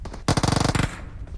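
A rapid burst of automatic gunfire from PUBG Mobile gameplay rattles off about a dozen close, sharp shots in under a second, then fades into a low tail.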